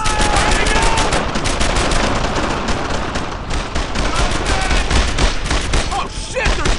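Heavy gunfire in the World War II shooter Brothers in Arms: Earned in Blood, loud rapid machine-gun bursts and rifle cracks hammering almost without pause, with shouting voices under the barrage.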